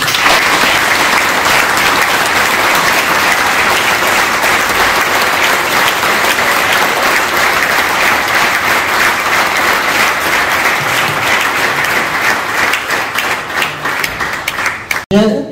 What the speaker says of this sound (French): Je vais vous demander simplement, même si je fais diversion, d'applaudir André.